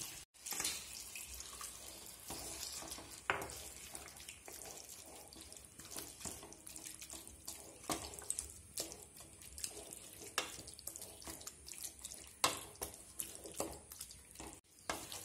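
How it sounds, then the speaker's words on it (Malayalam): Water poured into a chicken and beetroot curry makes a faint, continuous trickling splash with small irregular clinks and bubbles throughout, with no voices. "ആവശ്യത്തിന് വെള്ളം ചേർത്ത് കൊടുക്കാം"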